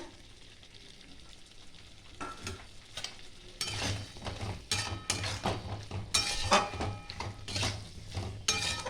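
Snake gourd and potato are stirred into a frying spice paste, starting as a quiet sizzle and building to louder, busy scraping and clinking of a utensil against the pan.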